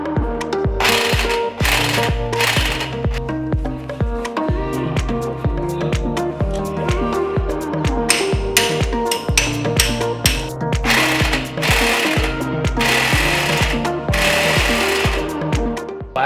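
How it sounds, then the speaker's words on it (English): A ratcheting wrench loosens the bolts holding the suspension on a Kia Forte Koup during a budget lowering job. Rapid, loud mechanical clicking repeats continuously in a steady rhythm, with no talking. "I'm going to unbolt every single screw I have up here so that suspension can come out"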